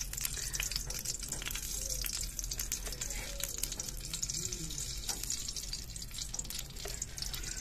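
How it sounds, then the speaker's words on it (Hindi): Ghee sizzling steadily in a hot kadhai in a village kitchen, a continuous dense crackle with scattered sharp pops and faint clinks, close and even throughout. "हमारी कढ़ाई गर्म हो चुकी है, अब इसमें घी डाल रहे हैं।"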